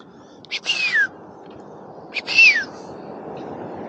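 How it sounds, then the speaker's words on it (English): Two short, rising-then-falling whistles from a person calling cats on a beach in Fujairah in the evening, a moment apart, clear and close over a low background hum. "Let's see if the cats know the whistle."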